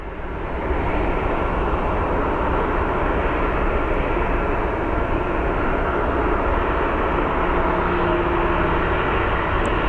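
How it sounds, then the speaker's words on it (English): A Boeing business jet at Sky Harbor airport gives a loud, steady roar of engine noise that fills the whole stretch without a break, with no voices over it. "That Boeing business jet looks so freaking majestic."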